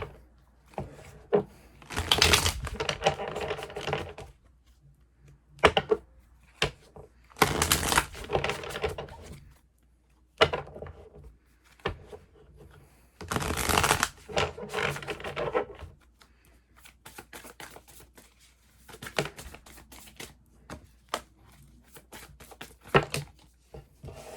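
Bursts of card shuffling come in irregular clusters, riffling and rubbing close by, separated by quiet pauses.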